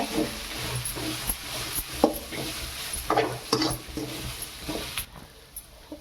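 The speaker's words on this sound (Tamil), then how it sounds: "ஹை ஃப்ளேம்லேயே வச்சு இது நல்லா வறுத்துருங்க." Rava semolina dry-roasting in a pan over a high flame, a close, hissy sizzle broken by irregular spoon scrapes and clinks against the pan, fading quieter toward the end.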